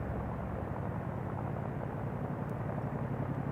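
A Chinook helicopter during an Indian Air Force firepower exercise, producing a dense, steady low roar of rotor and engine noise that fills the whole stretch without pause.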